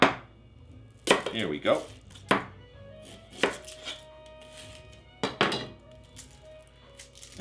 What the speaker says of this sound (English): prep up some nice thin slices of the shallots